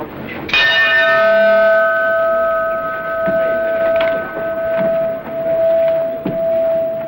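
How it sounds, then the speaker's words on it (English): A single bell strike rings out at Lloyd's of London, loud and clear, then a long sustained tone that slowly fades over a murmuring room. "Watson, ring the bell once"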